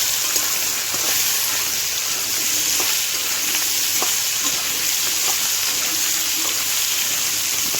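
Potatoes and paneer frying in a pan with oil, giving a steady loud sizzle and bubbling hiss that runs unbroken, with faint stirring knocks and no talking.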